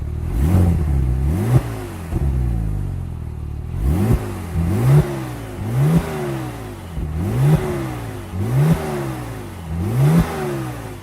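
A Porsche 911 Turbo 997 cabriolet with a 3.6-litre variable turbine geometry twin-turbocharged flat-six revs repeatedly, loud and close, with a long rev followed by a regular series of sharp blips that rise and fall.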